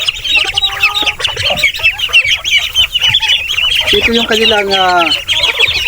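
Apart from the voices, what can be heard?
Peking ducks at feeding time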